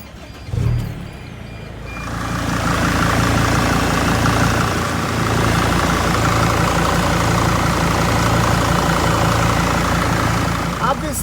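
A Mercedes car engine cranks briefly and catches, then settles into a loud, steady idle with a pulsing low drone and a higher whirring layer close by for the rest of the clip.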